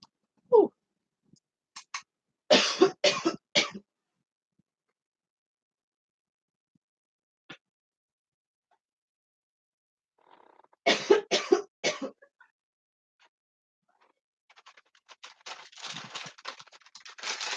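A person with a tickle in the throat while getting over a cold gives a bursty run of dry coughs, then another cluster after a quiet gap, and a softer rustle at the end; close and fairly quiet.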